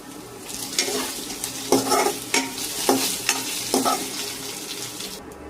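Continuous sizzling of boiled colocasia (taro root) frying in a pan with chili powder, with several sharp scraping stirs spaced about a second apart; close and steady, no voices.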